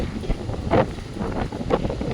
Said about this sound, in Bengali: এত বাতাস, ফোনও আমি ধরে রাখতে পারতেছি না